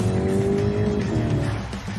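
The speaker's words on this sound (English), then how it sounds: "Nick gets his toe down to intercept, while Macca closes in on the speedy car, a white Seat." Police car in pursuit of a speeding white Seat, engine roaring loud and close with a brief tire squeal over about two seconds.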